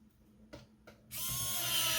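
T8 screws being driven into a PlayStation 4 cover with a power driver: two short clicks, then a steady whirring drive that holds for about a second close by, with no talking.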